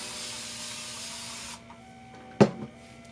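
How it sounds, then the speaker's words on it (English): A single quick burst from a water spray bottle stands out after a steady hiss of background noise fades, brief and close. "spray my hairline with water just a little bit"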